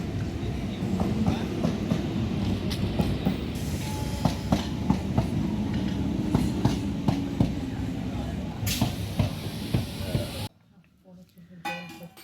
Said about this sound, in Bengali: এই ত্রিবেণীতে আর একটা ট্রেন ঢুকলো